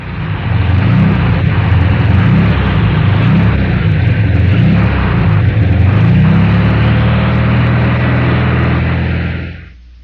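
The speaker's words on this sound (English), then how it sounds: "Normal engine" Normal Volkswagen engine idling steadily with a smooth, even drone and a slow pulsing undertone, loud and close, alone for about nine seconds before cutting off.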